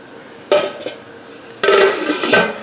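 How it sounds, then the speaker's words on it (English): Metal lid set back onto a pot while canning tomato sauce, two clattering metallic clanks close by, a brief one and then a longer rattling one as it settles, with a quiet background between. "I'm going to put the lid back on again here."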